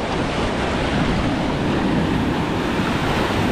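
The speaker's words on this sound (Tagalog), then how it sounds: "Kalalaki talaga ng alon." Big, powerful ocean waves surge and crash close by in a continuous roar, with wind buffeting the microphone and no voices.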